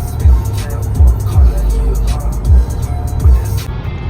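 Inside a moving BMW car, the engine and road produce a low cabin rumble, with soft rhythmic thumps repeating about every second, as if from tires over road joints.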